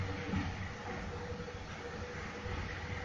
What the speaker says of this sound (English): We see another train coming the opposite direction,